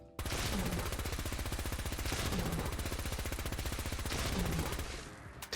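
Rapid, steady automatic fire from a laser RCW energy rifle in Fallout 4, aimed at a Deathclaw. It runs loud and continuous for about five seconds with no talk, then stops abruptly.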